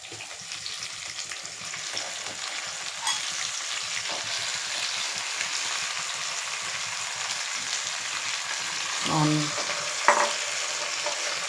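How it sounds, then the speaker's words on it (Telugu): Gongura leaves frying in a couple of spoons of oil, a steady close hiss and crackle running throughout, with a few brief clinks of a spoon stirring near the end. "మనం గోంగూర ఫ్రై చేసుకోవడానికి ఒక 2 స్పూన్స్ ఆయిల్ వేసుకుని మనం గోంగూర ఫ్రై చేసేసుకుందాం"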